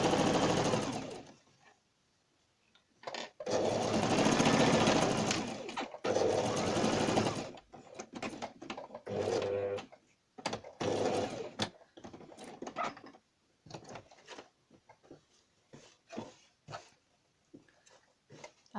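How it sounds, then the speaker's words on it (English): A sewing machine runs in bursts, stitching a folded fabric strip with a quarter-inch seam, a long loud run followed by shorter stop-start stitches close by, no talking. "I'll sew it till the end of the cut"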